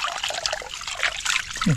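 Water is poured and sloshes close by in a short burst to rinse chicken outdoors in a forest, with a brief voice sound near the end.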